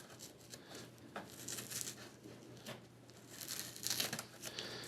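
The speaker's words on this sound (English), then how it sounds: "we're going to go ahead and get this piece of tape lifted up" Tape being peeled up off a circuit board inside a Samsung UN46D7000 TV, faint crinkling and tearing rustles in short bursts, quiet and close with no speech.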